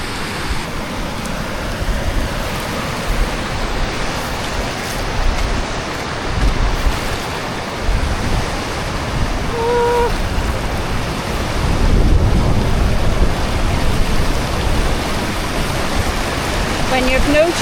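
Broadband rushing water of a river in Analong Valley during torrential rain, a steady loud roar throughout that swells slightly toward the end, with a brief tonal sound near the middle.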